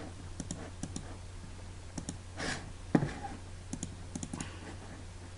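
Computer mouse clicks while working in Photoshop, a scatter of sharp light taps at irregular intervals, some doubled, close by over a quiet background hum with no talk.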